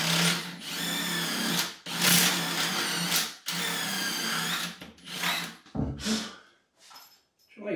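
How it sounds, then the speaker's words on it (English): A power drill bores a square hole in drywall for mounting a towel ring. It whines in several sustained bursts separated by short stops, then ends in a few brief jabs and quieter handling. "Drilling a square hole."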